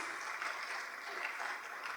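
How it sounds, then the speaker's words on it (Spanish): A church congregation applauding, a steady dense wash of clapping from many hands that carries on evenly throughout at moderate volume. "dele las palmas al Señor"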